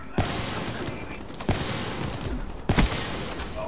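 Sniper rifle fire in a shooter video game, three sharp, loud gunshots spaced about a second apart over a constant background rumble.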